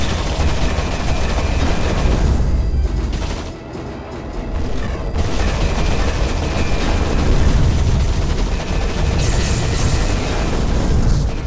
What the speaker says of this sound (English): since explosions are so pretty, I don't mind ruining my accuracy by blowing up every last thing I can